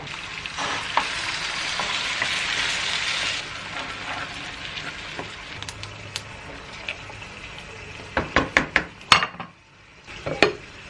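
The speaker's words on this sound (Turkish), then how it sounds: "Şimdi ben bunu güzelce bir kavurayım" Vegetables for sebzeli Ali Nazik sizzle loudly in a hot pan, a dense frying hiss at first that settles lower. Near the end, a spatula scrapes and clinks sharply against the pan as it is stirred.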